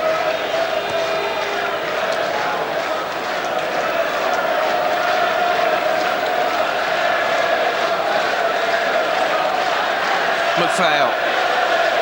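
Steady roar of a large football crowd at a Leeds United versus Celtic friendly, continuous and distant-sounding, with commentary talking over it throughout.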